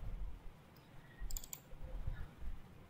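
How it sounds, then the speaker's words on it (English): A computer mouse clicks a few times on a Windows 11 PC. The clicks are quiet and isolated, sitting over a low background hum. "Now check this box and then click on OK."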